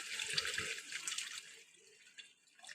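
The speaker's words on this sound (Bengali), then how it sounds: "এবার আমি জল দিয়ে দেবো তোমরা তো জানোই আমি গরম জল দিই উষ্ণ গরম জল" Warm water poured into a pan of egg chilli, a splashing liquid pour that fades out over a couple of seconds, with a few faint drips after it, heard close and fairly quiet.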